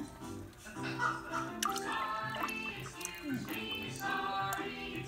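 Cooking oil trickles and drips into a cooking pot in small irregular splashes, quiet, with a voice and faint background sounds underneath.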